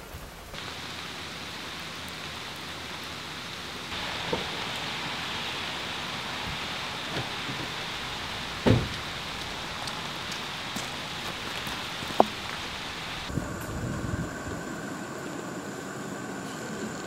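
Steady rain falling during a storm, a continuous hiss of drops on surfaces, with a few sharp isolated knocks and a shift in texture near the end.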